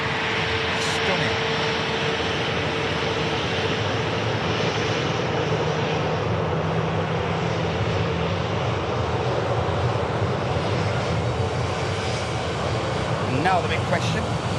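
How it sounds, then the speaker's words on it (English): Jet engines of a Saudia airliner on landing approach, a loud continuous roar with a slowly shifting whine, heard from the ground with someone talking over it. "Just look how beautiful that aircraft is, guys. It's stunning."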